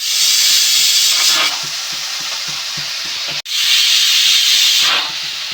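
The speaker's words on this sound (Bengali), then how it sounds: "আর এদিকে হচ্ছে মাছ ভাজা" Fish sizzling and frying in a pan during rain-soaked home cooking, a steady loud hiss with crackling and soft stirring clatter, briefly cut off mid-way before resuming.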